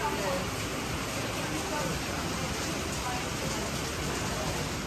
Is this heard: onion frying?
no